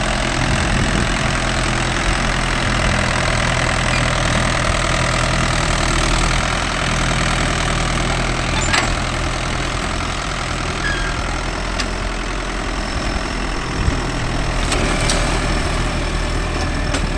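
A Mahindra 575 DI tractor's diesel engine idles outdoors on farmland, a steady, loud, close low chugging drone that holds throughout with only faint clicks over it.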